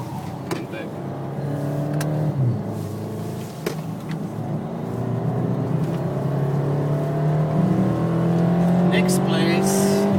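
Race car lapping the Nordschleife at speed, its engine droning loud and steady with rising and falling revs through the gears and occasional sharp bumps, while someone talks over it throughout.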